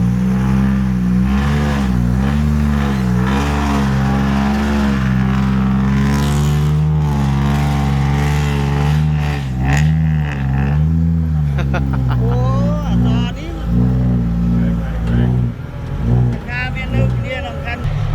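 A vehicle engine revs and accelerates loudly and continuously at close range, its pitch rising and falling as the throttle is pressed, while people talk over it.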